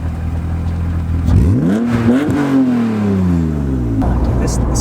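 A BMW E36 M3 engine idles with a low steady drone, then is revved hard so its pitch climbs and sweeps back down before settling into a rough idle again, loud and close from inside the car.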